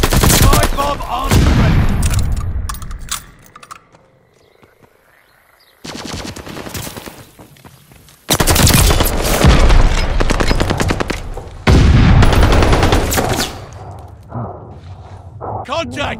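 Gunfire at a hardpoint in Call of Duty Vanguard: bursts of rapid automatic fire and shots broken up by short quiet gaps, with game voice callouts heard over the action.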